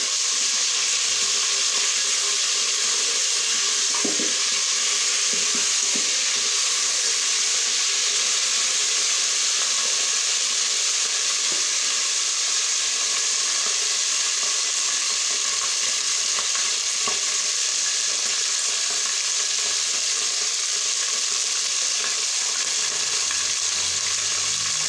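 Momoni fish frying in a pan, a steady, loud, continuous sizzle and hiss with faint stirring clicks now and then, no talking.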